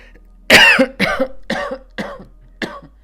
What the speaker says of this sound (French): Excusez-moi, j'ai encore envie de tousser.